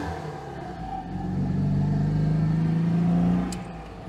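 A freshly tuned Citroen 2CV engine driving on the road, its small engine droning steadily, rising in pitch and loudness as it accelerates, then dropping off near the end, heard close from inside with no talking.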